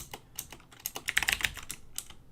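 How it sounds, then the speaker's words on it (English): Rapid, loud clicky typing on a mechanical keyboard with Cherry MX Blue switches, irregular bursts of sharp keystrokes heard up close and alone. "And my keyboard's pretty loud, by the way."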